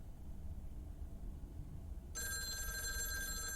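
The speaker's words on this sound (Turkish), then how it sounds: "Telefon çalıyor." Steady background noise, then a telephone in the video game Lake suddenly starts ringing with a bright, continuous electronic trill.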